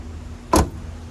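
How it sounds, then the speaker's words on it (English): A single door of a 1980 Chrysler Newport slams shut with a short, solid thud, close by, against a quiet background. "That's how a door slams."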